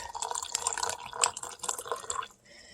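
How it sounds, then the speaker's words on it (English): Anise hyssop tea poured out of a container, a steady trickling, splashing stream with small drips, close and clear, stopping abruptly near the end. "I'm going to pour a little bit out"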